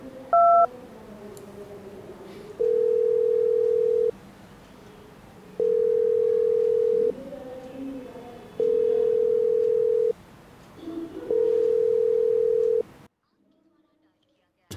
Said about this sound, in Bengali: আমি ওর অফিসে ফোন করছি।